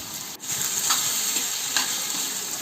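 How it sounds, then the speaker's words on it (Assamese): Steady sizzling and crackling of boiled chickpeas frying with paneer in a hot pan, with a few scrapes of stirring; no voices. "সিজাই থোৱা কাবেলি বুটকেইটা একেলগে মই ভাজি ল'ম"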